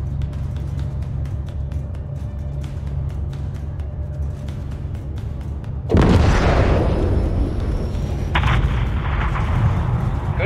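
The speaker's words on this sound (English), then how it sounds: "have your man drop a missile on that hangar." Missile strike levelling a hangar in the video game Call of Duty Modern Warfare 3, a low rumbling battle background that breaks into a sudden loud explosion with a long roaring blast and debris, no talking.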